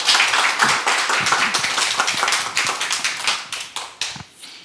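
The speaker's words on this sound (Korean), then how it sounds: "여러분들 우리 권 교수님 박수로 맞이하면서 강의 부탁드리겠습니다" Audience applause greeting a professor arriving to give a lecture on First Corinthians: a steady, dense patter of many hands clapping throughout, thinning into a few scattered claps toward the end, with no talk over it.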